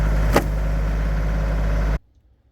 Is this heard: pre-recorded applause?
no